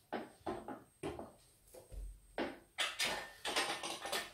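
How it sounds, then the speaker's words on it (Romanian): An adjustable exercise bench in a home gym is raised, giving a series of short knocking and clattering clicks, fairly faint and evenly spaced, with denser rattling toward the end. "În momentul de față o să ridic această băncuță."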